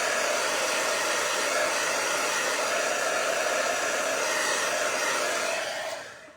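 A hair dryer runs to dry paint, a loud steady close-up airy roar with a constant whine that holds for several seconds and then fades as it is switched off.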